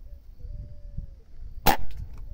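A single sharp, close crack from a customized Beeman PCP air rifle during a picazuro pigeon hunt, one brief report over quiet outdoor background noise.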